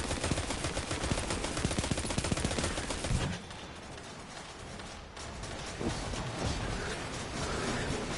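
Rapid automatic gunfire in a PS4 shooter video game, a dense rattling stream of shots for a few seconds, then quieter battle noise with scattered further bursts.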